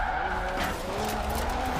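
A Nissan 370Z in Forza Horizon 4 slides in a drift, its tires squealing steadily and loudly over the engine for the whole short stretch, close and sustained.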